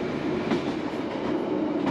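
A train on the Looe Valley branch line rolls along steadily with a broad, continuous rumble and rushing noise, heard from on board.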